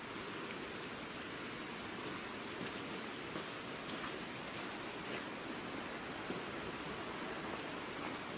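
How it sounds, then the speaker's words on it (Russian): Steady, soft patter of light sun shower rain, a continuous hiss with occasional faint drops, quiet and even throughout, no voices, in Førde, Norway. "По-моему, слепой дождик идет"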